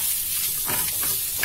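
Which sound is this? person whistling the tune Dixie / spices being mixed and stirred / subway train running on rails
spices being mixed and stirred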